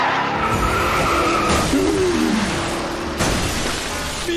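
Tires squeal loudly as a remote-controlled toy car driven from a phone app skids on an animated show, a close, sustained screech with abrupt cuts and a rising tonal whine midway.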